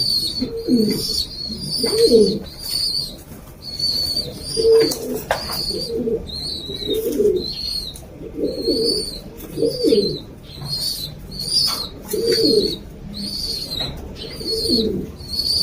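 Pigeons in a breeding loft give repeated low, throaty coos, close and clear, in a steady rhythm through the whole stretch, with higher chirps and wing movement around them.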